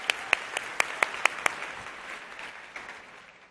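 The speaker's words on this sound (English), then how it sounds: "Let's give everybody a big hand for sharing ideas." Group of teachers at a workshop giving a round of applause, a handful of distinct loud claps at first, then fading into a soft, sustained patter that trails off.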